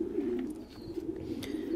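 Thai Titan pigeons, a large meat breed, cooing softly and steadily in a breeding loft, a low continuous murmur with a few faint chirps.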